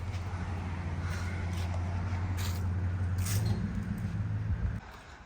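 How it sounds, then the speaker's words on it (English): A 1997 Toyota Land Cruiser 80 series with a 1FZ-FE engine is moved onto a trailer, its engine a steady, close low drone that holds for several seconds and then cuts off near the end. "Time to get this guy loaded on the trailer."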